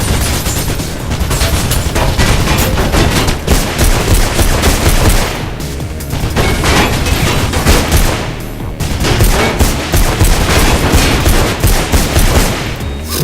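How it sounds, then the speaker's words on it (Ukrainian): Sustained bursts of rapid machine-gun fire in the video game Mirror's Edge, dense and loud, with brief lulls around the middle before the shooting resumes. "Ого, Фейс, они притащили пулеметы"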